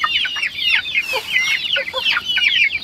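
Rhode Island Red and brown-neck chickens clucking and peeping together, a busy overlapping chorus of short calls that is close and fairly loud, with no voices.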